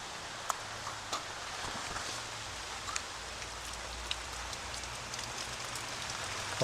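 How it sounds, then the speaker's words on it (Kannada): Steady rain patters down on surfaces with scattered louder drips, a soft continuous hiss and no voices. "ಜೋರಿಗೆ ಮಳೆ"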